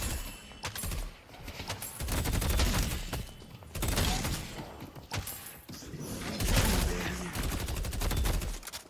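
Rapid bursts of gunfire from the Deadlock video game, played as Haze, come in dense volleys with brief lulls between them, loud and busy throughout.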